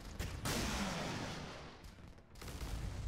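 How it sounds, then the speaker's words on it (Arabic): Machine-gun fire from a warship in the Modern Warships video game, with rapid bursts of fairly faint, booming shots separated by brief pauses. "هاي مدفعين رشاشه نوعيتين"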